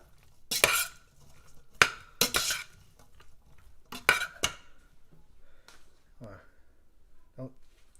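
Spoon clinking and scraping in a pan while black pepper is stirred into home-cooked food, a few sharp metallic strikes then softer scrapes, with a person talking nearby.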